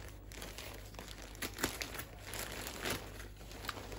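Plastic cover of a parcel holding a rain and weather coat being pulled and torn open, with steady crinkling and crunching close by and a few sharper rips near the middle, alone without talk.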